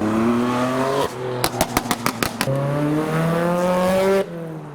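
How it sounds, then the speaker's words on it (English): Cars on the road into a Japanese car meet in Reading, BMWs among them, drone with a steady engine tone, then a burst of rapid popping or backfire bangs, and engines rev up again close by. "We have two BMWs following or chasing, giving chase to the motorbicycle."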